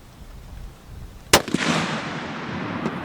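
A single sharp, loud report from a Noreen Ultra Long Range .50 BMG rifle fired outdoors, followed by a brief echoing rumble rolling away across the range after a quiet lead-in.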